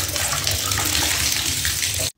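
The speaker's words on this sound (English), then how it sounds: "The plug goes in and we just want a lukewarm pool of water" Bathtub filling with lukewarm water from the tap, a steady loud rushing splash of water pouring into a plugged tub, continuous and close, then cutting off abruptly.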